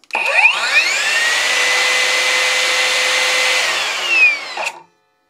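A Parkside Performance PPHKSA 40-Li A1 cordless circular saw with a brushless motor spins up, runs freely without load at its highest speed setting, then winds down, a loud steady whine with rising and falling tones at start and stop.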